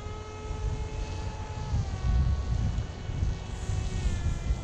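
Electric motor of an 11-foot Onslaught FPV flying wing hums and whines steadily in flight, pitch shifting slightly, over a rumble of wind noise with no talking.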